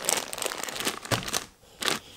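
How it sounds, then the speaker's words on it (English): Mushroom grain spawn being broken up inside its plastic bag, giving close crinkling plastic and crunching grain in a few bursts with a short pause near the end, no talking. "Then we're going to break it up in the bag."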